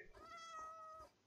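A single cat meows in Minecraft, a short clear tonal mew about a second long, close and fairly quiet, with no talk over it.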